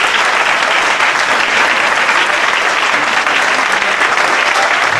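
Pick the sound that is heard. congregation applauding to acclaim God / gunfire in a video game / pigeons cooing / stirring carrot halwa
congregation applauding to acclaim God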